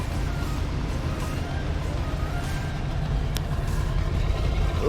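A car engine idles steadily after sitting unused for six months, a loud, continuous low rumble running without pause from start to finish.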